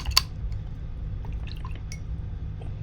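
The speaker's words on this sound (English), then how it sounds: "And I'm going to clean my brush." Filbert paintbrush swished and tapped in a water jar, a few small drips and clinks over a low steady hum, close and quiet.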